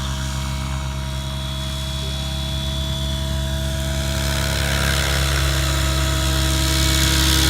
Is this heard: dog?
no